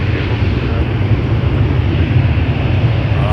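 An airliner departing Toronto Pearson Airport, a loud steady engine roar filling the whole stretch with heavy low rumble and wind-buffeted noise.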